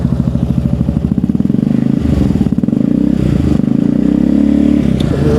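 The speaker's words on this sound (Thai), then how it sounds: "มาฟังเสียงท่ออันนี้กันหน่อยดีกว่านะ" A used motor scooter with an aftermarket exhaust revving up close: a loud, throaty, rapidly pulsing exhaust note that swells and dips with each blip of the throttle.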